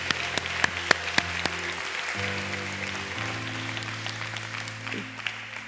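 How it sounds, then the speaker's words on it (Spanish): A church congregation applauds during a sermon, clapping steadily for several seconds while sustained keyboard chords play underneath, a few sharper claps standing out early on. "¿Qué le parece si usted le da un aplauso a la obra"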